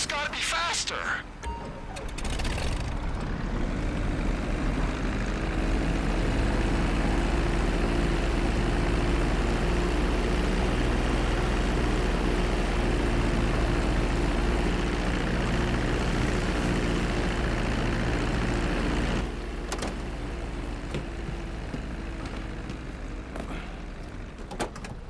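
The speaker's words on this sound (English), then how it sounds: "This plane's just gotta be faster." In-flight plane engine from Grand Theft Auto V, a continuous loud droning roar that holds steady for most of the span before easing slightly near the end.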